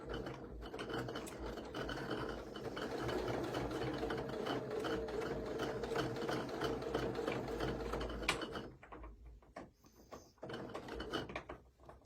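A sewing machine stitches quilt fabric for a Cathedral Windows block, whirring in a continuous run for about eight seconds before stopping, then a few short bursts of stitching follow.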